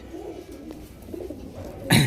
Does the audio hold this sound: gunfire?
no